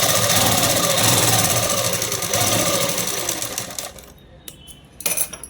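A sewing machine stitches a seven-year-old child's langa jacket, giving a fast, even mechanical rattle that runs steadily for about four seconds and then stops, followed by a few small clicks and handling noises.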